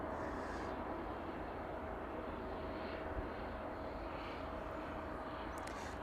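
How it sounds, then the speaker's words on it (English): A Boeing 777 taxiing on an evening taxiway at East Midlands airport: a steady, distant jet engine rumble and hiss that stays level throughout, with no voices. "let's focus on the 777 as it makes its way around then"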